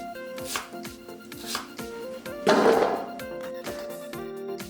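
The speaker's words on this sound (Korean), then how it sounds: "같은 두께로 채 썰어서 깍둑 썰기 해줬다" A knife chops a Korean radish into cubes on a cutting board, giving a close series of dull, irregular thunks with one longer scraping burst midway.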